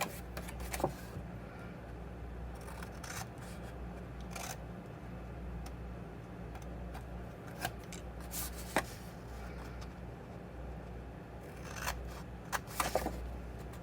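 Scissors snip away corner tabs from cardstock in a few quiet, scattered cuts over a steady low room hum, with small ticks and rustles between them.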